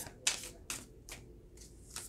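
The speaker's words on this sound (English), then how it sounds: "these cards are fanning out while I'm shuffling like crazy." Tarot cards shuffled by hand in quick, close bursts, five crisp riffles spaced across a couple of seconds in a quiet room, no speech.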